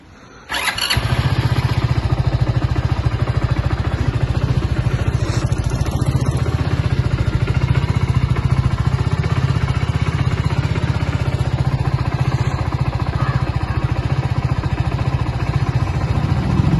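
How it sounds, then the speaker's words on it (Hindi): A motorcycle starts and settles into a steady idle while it warms up, with a close, loud, rhythmic engine thrum that lasts throughout. "अभी थोड़ा बाइक को गर्म कर लेते हैं पहले।"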